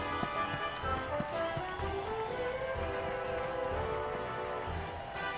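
Horse hooves galloping in the video game Dragon Quest XI, a steady fast clip-clop that runs through the whole stretch under a bright layer of game music.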